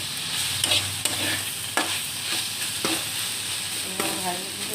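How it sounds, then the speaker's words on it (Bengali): Drumstick leaves frying with dried coconut and poppy seeds in a pan, a steady close sizzle with scattered clinks and scrapes of stirring, no voices. "শুকনো নারকেল আর পোস্ত দিয়ে সজনা শাক ভাজা।"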